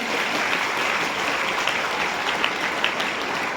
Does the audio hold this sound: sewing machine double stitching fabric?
no